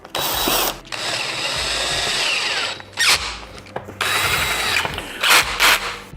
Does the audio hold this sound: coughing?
no